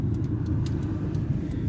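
A car rolls slowly into a parking area, its engine a steady low rumble heard from inside, with faint tyre noise and a few light ticks and knocks over the drone.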